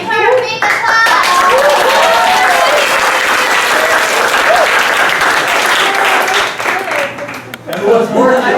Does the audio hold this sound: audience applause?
yes